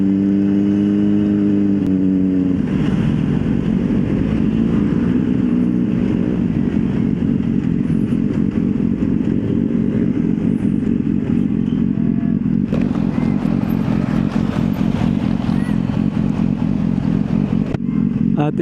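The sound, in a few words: road traffic with cars and motorcycles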